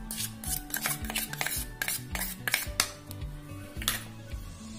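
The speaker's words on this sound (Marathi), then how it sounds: "त्यातच मी आता 1 वाटी मिल्क पावडर टाकत आहे। मिल्क पावडर पण आपल्याला चांगली मिक्स करून घ्यायची।" Milk powder being mixed into eggless cake batter in a bowl, a close rhythmic series of spoon or whisk scrapes and clinks against the bowl, quick and steady, with no talking.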